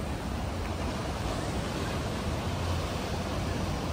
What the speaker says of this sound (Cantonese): 金門橋嘅海浪啊！